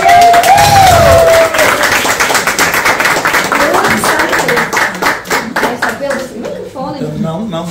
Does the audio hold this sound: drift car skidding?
no